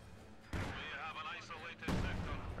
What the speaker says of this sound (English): Artillery barrage on the right-hand side where those Grens are. The artillery barrage misses completely.